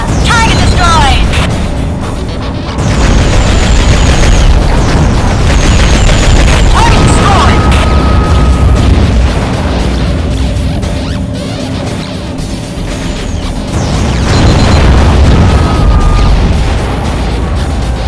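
Heavy explosions crash and boom repeatedly as a target is destroyed in the underwater combat game AquaNox, loud rumbling bursts layered with debris smashes and a few voice exclamations.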